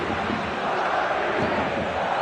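Steady football stadium crowd roar in the PES soccer game during a Copa America final, a broad continuous murmur of fans at even loudness with no clear peaks.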